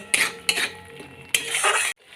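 A spoon stirs and scrapes fried onion, ginger and garlic with spices in a pan for palak paneer, close metallic scraping strokes in short bursts over a soft sizzle, ending abruptly.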